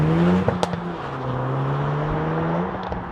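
A Renault Megane Trophy-R's 1.8-litre four-cylinder engine hums and revs steadily, its pitch rising slowly, with a couple of brief clicks early on.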